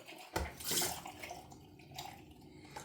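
A Gillette Black Beauty safety razor is rinsed under running water, a short splashing gush that swells and fades within a second, followed by quieter trickles and drips.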